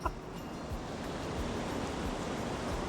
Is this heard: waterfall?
yes